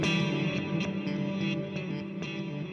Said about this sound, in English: It also has a reverse, which turns your delay backwards